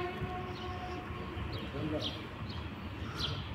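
Ore freight train passing Niğde station, a steady rumbling roll with faint screeches and high squeals, heard at a moderate distance.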